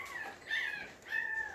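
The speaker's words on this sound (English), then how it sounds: "we got a puppy that's not happy right now." A puppy whimpers in two drawn-out, high whining cries, close and fairly quiet, with a short pause between them and no talking.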